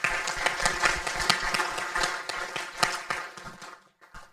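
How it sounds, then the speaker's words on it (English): An audience at a security forum panel claps steadily for a few seconds, many hands at once, before the applause thins out and stops. "give a round of applause to our panelists"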